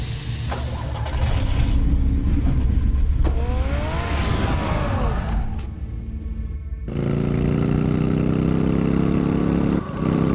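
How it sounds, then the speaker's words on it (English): Car engine in the Batman Telltale Series video game, a loud steady rumbling drone that rises as it revs and accelerates, briefly drops out, then returns as a sustained low roar with no talk. "Get the car ready, Alfred."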